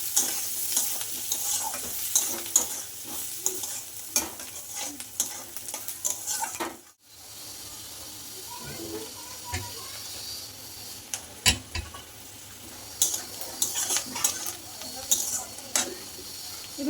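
Spices with turmeric frying in a pan for a fish roe and potato curry, a crackling sizzle broken by frequent spatula clicks and scrapes, briefly dropping out midway before resuming.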